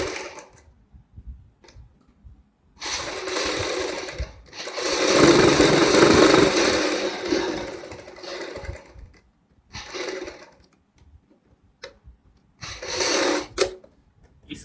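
A sewing machine stitches a kurti together with buckram in several separate bursts of rapid mechanical clatter, close and fairly loud, with quiet gaps between runs.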